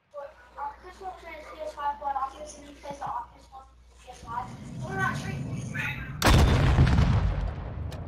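A rocket explosion in the video game Call of Duty Warzone 2.0, a sudden loud blast with a rumbling tail near the end, following several seconds of people talking.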